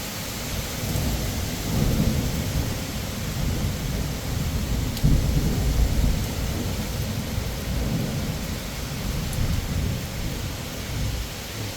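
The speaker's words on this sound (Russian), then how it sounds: "Вот это молния была близко." Heavy downpour in a severe thunderstorm with strong wind, a steady loud roar of rain broken by a close lightning strike's sharp thunder crack around the middle, with rumbling continuing throughout.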